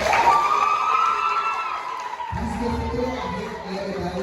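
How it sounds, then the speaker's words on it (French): A crowd cheers and shouts with children's voices mixed in as a champion team from an Adventist school in Beaumont is honoured at an awards ceremony; loud and continuous, with a rising tonal shout early and denser crowd noise after a brief dip. "Applaudissez-vous s'il vous plaît."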